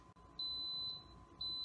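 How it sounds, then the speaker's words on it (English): An Instant Pot beeps as it switches into pressure-building mode: a steady, thin electronic tone sounding in bursts over a low background hum, nearby and moderately loud. "you're gonna hear the Instant Pot beep as soon as it kind of clicks over into the pressure"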